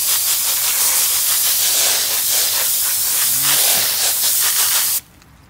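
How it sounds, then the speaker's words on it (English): A spray bottle of acid mists a dish of calcite and crystals: a steady, loud hissing spray runs for about five seconds, then cuts off abruptly, leaving a quiet room tone. "let's give another spray for the dish"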